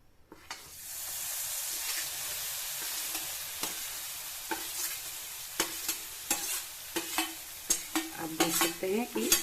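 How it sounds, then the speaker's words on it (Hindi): Boiled lentils fry in hot ghee in a wok, with a steady sizzle under repeated sharp spoon scrapes and stirring strokes that come faster and louder toward the end. "जैसे ही घी गर्म होगा, हम लोग जो उबली हुई दाल थी इसको कढ़ाई में डाल देंगे।"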